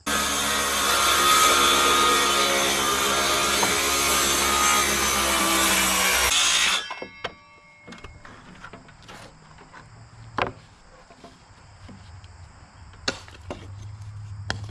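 A handsaw cuts through a wooden board during barn siding work, loud, steady rasping strokes for about six seconds, then the saw stops and scattered knocks and light handling noises follow in a quieter setting.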